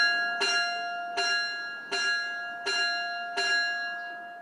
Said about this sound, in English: that'll sound across our bell system